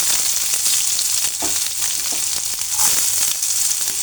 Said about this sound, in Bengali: তো এখন আমি পেঁয়াজ কুচিগুলো দিয়ে দেবো,